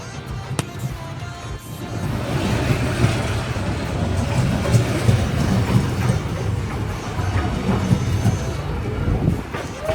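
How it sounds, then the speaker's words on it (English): A train passes very close on Hanoi's Train Street, a narrow residential lane: a loud, steady rumble and rattle of cars that lasts the whole stretch, with faint street sounds underneath. "The train moves fast, has a lot of power and won't stop for anyone."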